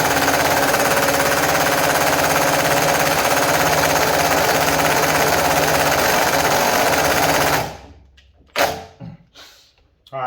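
A Milwaukee stubby impact wrench hammering on a socket during a torque test, a loud continuous rattling burst for about seven seconds, then stopping, followed by a few short clanks and handling knocks.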